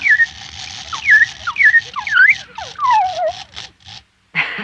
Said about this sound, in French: C'est un automate. Pour qu'il siffle, il faut remonter le ressort.